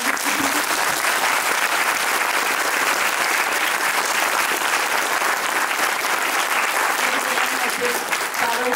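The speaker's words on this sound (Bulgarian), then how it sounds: "Аплодисменти." An audience in a hall applauds, a loud, dense, unbroken sheet of clapping from many hands that holds steady throughout, with a voice faintly audible under it.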